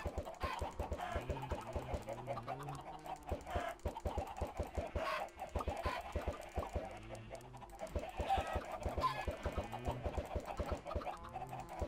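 Minecraft chickens clucking in short, repeated bursts over a busy game soundscape with background music, while someone talks intermittently.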